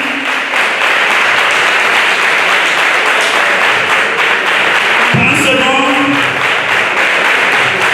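Standing ovation at a ceremony: a big crowd claps hard and continuously, a thick sustained wash of applause, with a brief louder swell and a voice cutting in partway through.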